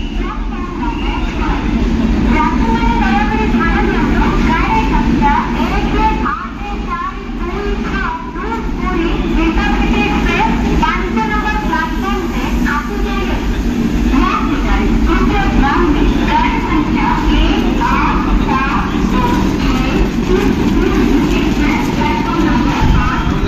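Passenger train pulling out of platform 4 at Bhubaneswar station, Odisha, heard from on board as a steady loud rumble of wheels and carriage noise with rhythmic clatter, voices chatting throughout.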